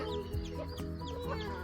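Chickens clucking steadily inside a small cage on a Western Cape farm, several birds overlapping in a dense, continuous chorus of close, moderately loud clucks with occasional higher squawks.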